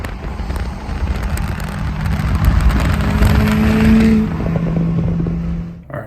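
A car drives past, its engine roar swelling and rising in pitch, loudest near the middle, then easing off as it moves on.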